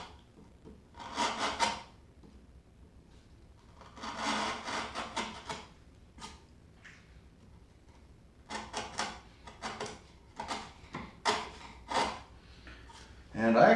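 A half-inch chisel paring wood for a spice rack in a home workshop, producing short scraping bursts of shaving and cutting with pauses between strokes, heard up close and alone.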